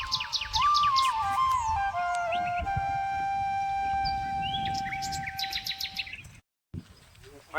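A peacock calls in a village near a masonry building site, its tonal cry mixed with chirping bird song, moderately near and clear against a quiet rural background.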